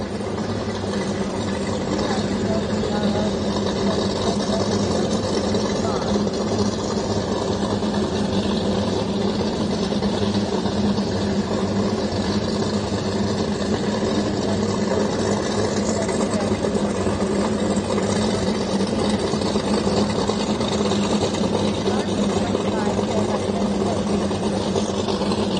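A loud boat engine runs steadily on a river fishing trip, a constant close rumbling drone that fills the whole stretch without letting up.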